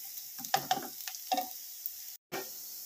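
A village-style curry of green tomatoes, green chilli and brinjal frying in a pan, heard up close as a soft sizzle broken by several scraping stirs and light clinks, then a short silence before the frying resumes.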